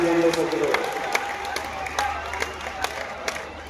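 Audience applause at a public event, crowd clapping and scattered cheering behind a voice speaking over a loudspeaker at the start, continuing at moderate level for a few seconds.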